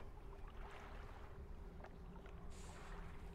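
Wind and waves in a fishing video game, a low, steady rush of wind and lapping water around a boat, with a faint creak and a brief higher tone near the end and no talk.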